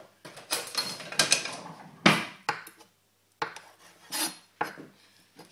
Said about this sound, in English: don't know why I'm cutting with this knife